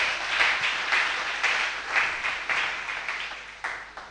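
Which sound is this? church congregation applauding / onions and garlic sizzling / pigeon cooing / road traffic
church congregation applauding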